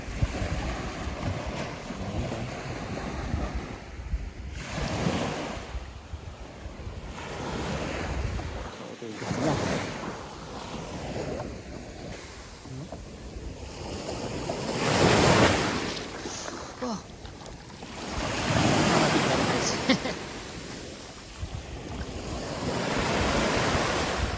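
Waves at Al Ghariya Beach in Qatar wash in and recede in slow surges under steady wind rumble on the microphone, broad and continuous, with faint voices at times.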